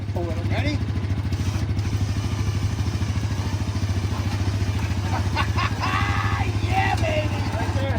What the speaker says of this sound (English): Why don't I hook my four-wheeler to it and try to get the winch on it?